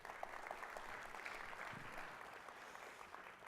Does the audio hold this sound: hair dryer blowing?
no